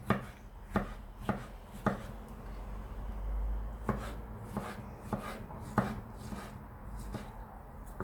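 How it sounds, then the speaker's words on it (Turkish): A knife chops tomatoes on a cutting board in a series of sharp, irregular taps, close and fairly loud, with quiet rustling between strokes. "Bu şekilde domateslerimi doğrayıp devam edeceğim."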